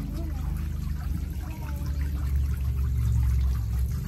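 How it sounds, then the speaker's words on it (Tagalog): Water runs and pours steadily in a continuous low rushing stream, with a voice talking over it. "Hindi ko pinalakasan yung tubig,"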